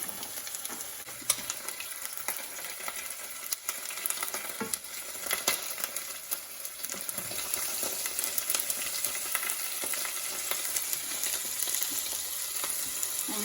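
Ginger and garlic simmer in a pan with a steady, close sizzle and bubbling crackle that grows slightly denser as it goes on, with no voice over it.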